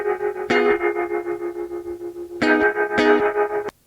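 Electric guitar through a Gamechanger Audio Light optical spring reverb pedal on its tremolo setting: a few struck distorted chords, each throbbing in a rapid, steady pulse with a reverberant tail before cutting off abruptly.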